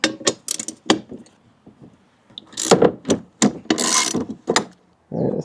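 A socket ratchet loosening the 17 socket screws holding the blade on an EGO lawn mower, giving close bursts of rasping clicks separated by short pauses.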